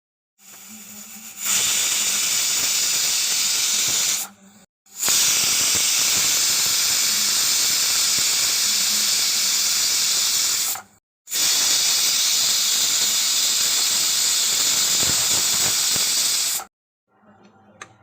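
Loud, steady hissing of steam escaping under pressure from a pressure cooker, in three long bursts separated by brief silent pauses.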